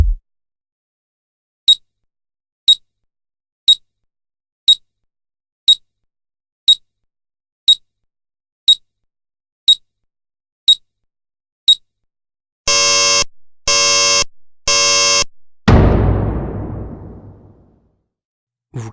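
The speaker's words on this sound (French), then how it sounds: "Je n'en peux plus d'entendre cette alarme de malheur." A series of regular short beeps ticks along, then three loud harsh buzzing alarm blasts ring out, followed by a fading crash-like decay.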